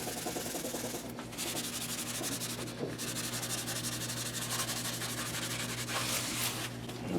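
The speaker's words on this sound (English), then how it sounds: "Now I'm going to wipe any excess off, get any off the frets I got on there before it dries." A cloth rubbing excess finish off a guitar built from a Leo Jaymz kit, including around the frets, a continuous soft swishing wipe with faint steady hum underneath, close and quiet with no voices.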